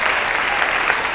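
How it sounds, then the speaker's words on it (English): Audience at a seniors' talent show in Chattanooga applauding the judges and sponsors, a dense, even wash of clapping that holds steady through a brief burst. "Let's give our judges another round of applause,"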